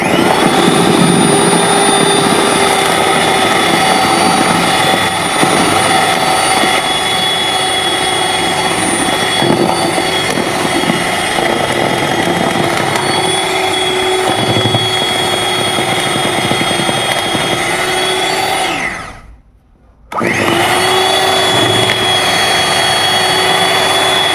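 An electric mixer beats cake batter at slow speed, giving a loud, steady motor whine that cuts out for a moment near the end and then starts again.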